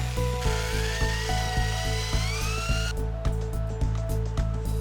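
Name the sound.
jigsaw cutting countertop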